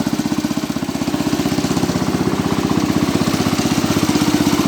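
A Cub Cadet 86 tractor engine with a leaking head gasket runs at a steady idle, giving a close, loud, rapid rhythmic chugging with a slight knocking edge and no voices.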